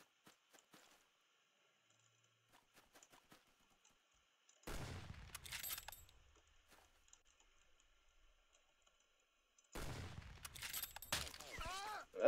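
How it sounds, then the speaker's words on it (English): Gunfire rings out in the Roblox shooter Unit 1968: scattered faint shots early on, then two loud sharp bursts with trailing echoes, the second near the end, over an otherwise quiet soundscape. "Where's this dude shooting from? I hear him."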